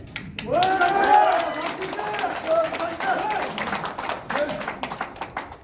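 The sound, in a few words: applause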